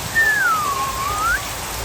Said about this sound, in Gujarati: બારિશ બારિશ બારિશ આવી આવી